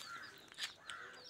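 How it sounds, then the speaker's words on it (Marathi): Faint crows caw a few times in the distance over a Konkan poultry farm, harsh calls rising and falling over quiet background. "आता हे जे कावळे ओरडत आहेत"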